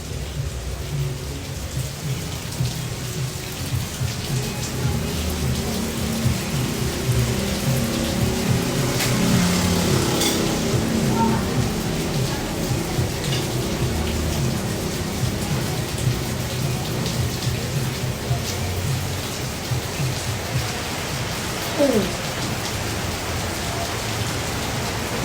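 Heavy rain pouring down steadily and loudly, a dense continuous hiss with thunder rumbling low beneath it, no voices.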